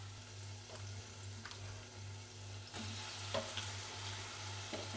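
Raw banana pieces and softened tomatoes are stirred in a hot pan, giving a continuous frying sizzle broken by a few scraping stirs of the spoon, with a low steady hum beneath.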